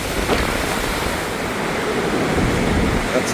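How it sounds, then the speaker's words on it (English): Rough sea surf crashing under a strong, blustery wind on an exposed shore, a steady broadband roar with gusty buffeting and no pauses. "That's the state of the sea at the moment."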